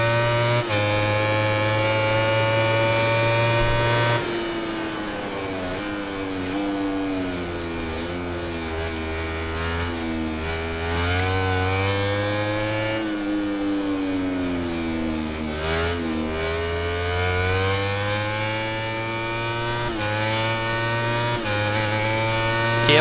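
Motorbike racing in the video game MotoGP 19: a loud, continuous engine whine that rises and falls in pitch through gear shifts and throttle changes, steady throughout with no talk.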